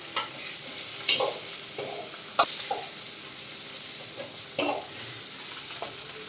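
Food frying in a pan is stirred and mixed, a steady sizzle underneath with several sharp scraping clinks of the spoon at irregular intervals, close and moderately loud, with no talking.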